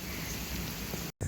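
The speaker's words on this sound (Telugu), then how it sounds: "వర్షం ఫుల్గా పడుతుంది." Heavy rain pours steadily around a spot beneath a tree, a dense, continuous hiss close by that cuts out briefly near the end.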